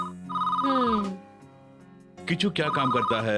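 Telephone bell ringing in a Hindi-dubbed South Indian action movie scene, a ring burst near the start and another near the end, with a person speaking over and between the rings.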